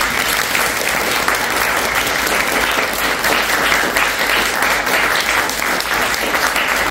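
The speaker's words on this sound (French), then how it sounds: "je vous propose un tonnerre d'applaudissements pour Yvonne." Loud, sustained applause from a sizable crowd at a 100th birthday celebration in the Lagny-sur-Marne town hall, dense steady clapping filling the room without a break.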